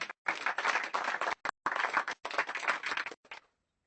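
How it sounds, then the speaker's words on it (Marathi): A church congregation claps together in dense bursts, with brief breaks, for about three and a half seconds, then falls silent. "देवासाठी टाळ्या वाजवा"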